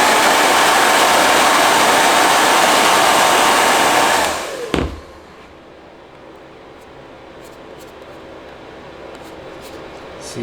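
A heat gun roars loudly and steadily up close while warming a vinyl wrap skin over the curves of a Quest 2 headset, then cuts off, its blower whine winding down into a quiet room.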